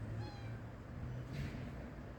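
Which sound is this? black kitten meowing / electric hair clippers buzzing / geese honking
black kitten meowing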